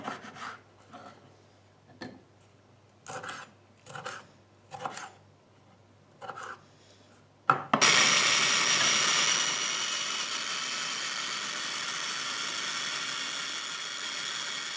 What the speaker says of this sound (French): je vais couper les tomates que je vais mettre dans mon mixeur